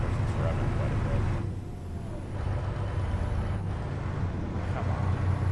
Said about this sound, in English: Of course, it's revving quite a bit.